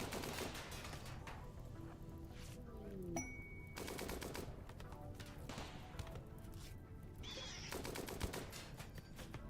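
Dense, rapid gunfire crackles through a Rimworld raid as colonists and raiders trade shots, sustained volleys with brief gaps, moderately loud against a busy game soundscape.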